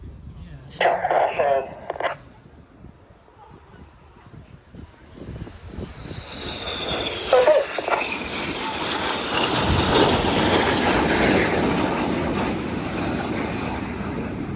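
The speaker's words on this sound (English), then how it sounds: "They've got a closing speed of over 900 miles per hour as all 4 aircraft perform the Hannah pass" Red Arrows jets perform the Hannah pass at the Royal International Air Tattoo, their engine roar building from a distant whine into a loud, sustained rushing flyby while a commentator talks over the display.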